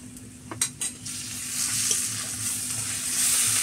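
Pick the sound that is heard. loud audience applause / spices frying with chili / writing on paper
spices frying with chili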